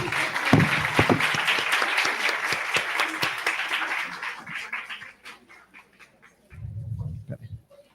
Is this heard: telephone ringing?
no